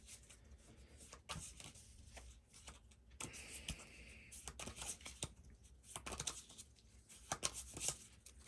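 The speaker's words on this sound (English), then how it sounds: "let's shuffle up and see what's waiting for us there in that clearing." A deck of cards for a Four Against Darkness dungeon board game is shuffled quietly and close by in quick riffling bursts and soft papery slides, repeated over several seconds.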